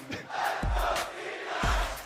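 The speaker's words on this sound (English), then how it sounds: "The crowd is popping off." A packed esports arena crowd at the League of Legends World Championship 2022 group stage, T1 versus C9, roars and cheers loudly, with rhythmic low pulses in the noise.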